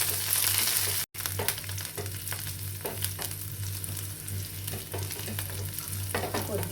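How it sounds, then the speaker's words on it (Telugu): Green chillies and curry leaves frying in a pan with a constant crackling sizzle, punctuated by repeated scraping stirs and a brief dropout near the start; no speech. "కొద్దిగా ఫ్రై చేసుకుందాం."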